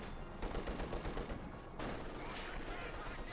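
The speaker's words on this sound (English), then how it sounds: "Sniper landing a kill there, very good." Sniper rifle shots and rapid gunfire from the Company of Heroes 2 strategy game, dense overlapping bursts and bangs throughout, with a brief dip before the firing resumes steadily.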